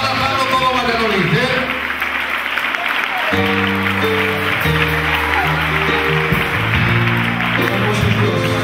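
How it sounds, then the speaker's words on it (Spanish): Congregation applauding during a concert in a church, loud continuous crowd clapping heard beneath sustained music with held tones and a voice over it. "le damos un fuerte aplauso"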